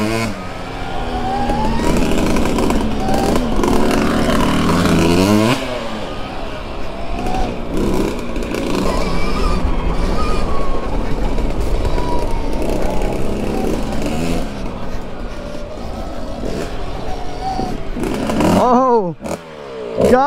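A Stark Varg Alpha electric dirt bike, set to a 40-horsepower mode, is ridden through woods, giving a continuous loud motor whine that rises and falls with throttle, with rattling and clatter from the rough trail.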